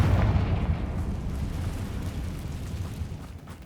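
Confringo fire spell explosion in Hogwarts Legacy, a loud deep booming blast at the start that rolls into a long rumbling decay.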